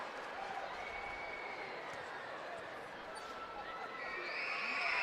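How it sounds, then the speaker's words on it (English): A high school basketball crowd at a state boys tournament game cheers and claps after a made free throw, a broad steady roar that swells louder toward the end, with an announcer speaking over it. "The crowd erupts for Viborg-Hurley."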